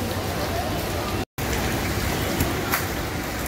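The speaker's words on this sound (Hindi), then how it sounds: "इतनी बारिश है" Heavy rain at a roadside dhaba restaurant, a dense, steady hiss of falling water close by that cuts out for a split second and then continues unchanged.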